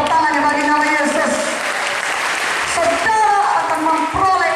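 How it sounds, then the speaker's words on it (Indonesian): A church congregation at an evangelistic service in Sorong, Papua applauds steadily and loudly, with a preacher speaking over the clapping near the start and end. "Mana tepuk tangannya bagi nama Yesus."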